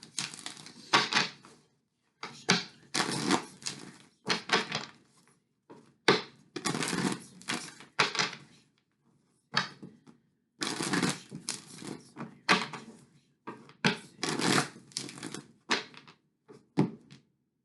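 Oracle cards being shuffled in repeated bursts of crisp riffling and flicking, with short pauses between rounds, close and fairly quiet.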